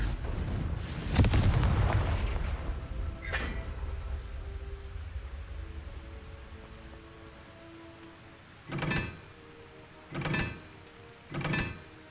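A Confringo blasting spell goes off in Hogwarts Legacy, a loud, booming explosion that rumbles and fades over several seconds. Three shorter, softer bursts follow later in the game scene.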